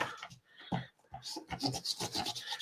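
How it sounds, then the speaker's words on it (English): A hand rubbing over a paper craft piece laid on a piercing mat, giving soft, close rasping strokes in short bursts with brief pauses, no talking. "Rub it over with my hand."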